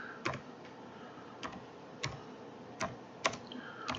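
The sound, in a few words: typing on a computer keyboard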